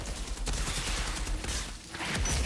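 Outriders gunfire rattles in quick continuous bursts, loud and close, with steady automatic rhythm and no talking.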